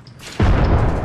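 A frag grenade in Apex Legends detonates with a sudden deep boom about a third of the way in, followed by a sustained rumbling roar that does not fade.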